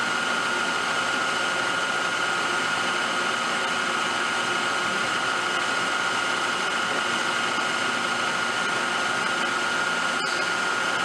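A Racer HB 110CB CNC horizontal boring mill spindle turns at 1200 RPM, giving a steady, even whine with a constant tonal hum and no breaks throughout.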